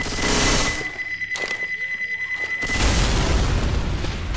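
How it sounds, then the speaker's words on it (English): A pipe bomb goes off in Left 4 Dead 2: a steady run of rapid beeping pulses, then a loud, deep explosion that swells into a sustained rumbling blast, close and dominant. "Throwing a pipe bomb!"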